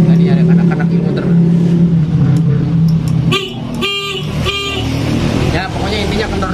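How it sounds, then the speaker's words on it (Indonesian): Short bursts of a Yamaha Vixion motorcycle horn toot loudly up close over a running engine drone, with a voice speaking nearby. "Tekan klakson."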